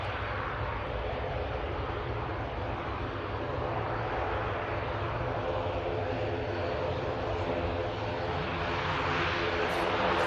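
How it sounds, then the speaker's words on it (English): An ATR turboprop arriving from Dublin drones steadily at an airport, a continuous, moderately distant engine hum that holds an even level throughout. "ATR just arrived in from Dublin"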